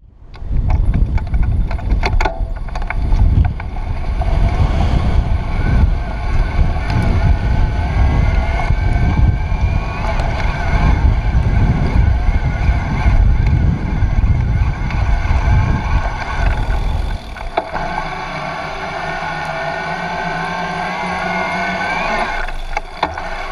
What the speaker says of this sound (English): The whining noise you probably heard is from a Bosch mid-drive system.